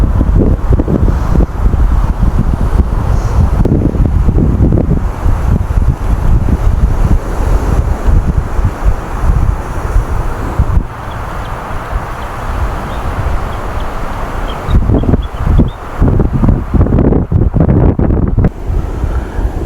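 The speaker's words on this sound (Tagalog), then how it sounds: "Tapos yung hangin walang tigil." Strong, unbroken wind roars at a rainy campsite, a steady loud rush with low buffeting against the microphone throughout, dipping briefly before gusting again, with no voices.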